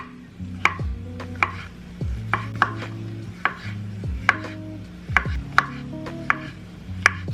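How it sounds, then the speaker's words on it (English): Knife slicing mushrooms into medium-thick pieces on a cutting board, producing a steady series of crisp, evenly spaced chops close up over a low background hum, with no voices. "Now we're going to start slicing. Grabbing my favorite knife. We are going for some medium thick slices"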